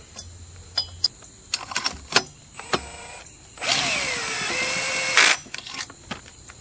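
A power driver briefly whirs for a couple of seconds while cranking down the cylinder on a Stihl MS440 chainsaw under rebuild, surrounded by close clicks and taps of tools and parts.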